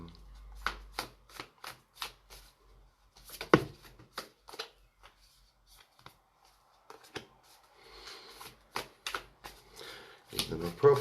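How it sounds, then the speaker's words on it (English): Oracle cards are shuffled by hand in bursts of quick, crisp riffling flicks, close and fairly quiet, separated by short pauses with occasional soft talking. "I'm going to give them a shuffle and wait for some people to roll in."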